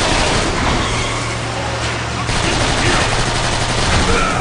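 Loud, dense weapon fire from the video game Transformers: Fall of Cybertron, a continuous roar of rapid shots under game sound effects, steady for several seconds.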